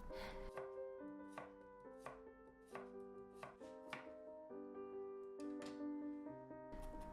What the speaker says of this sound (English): Cut the daikon into square and inch thick.